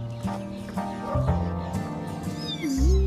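House cats at a neutering clinic let out a few short meows amid clinic background clatter, fairly close and clear, with one rising mew near the end.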